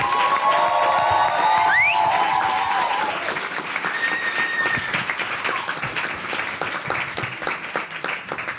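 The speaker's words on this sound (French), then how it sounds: "un tonnerre d'applaudissements pour Manon Bril," A large audience breaks into thunderous applause and cheering for Manon Bril, dense clapping with shouts and whistles at first, then settling into sustained clapping.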